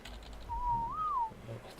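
A person whistles one sustained mid-pitched note that rises briefly near the end, lasting under a second over a faint, low background hum.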